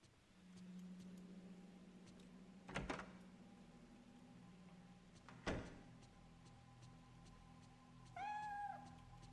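A cat in the PS2 horror game Fatal Frame III: The Tormented gives a single short meow near the end, after two sharp knocking thuds and a low hum in a quiet, eerie room.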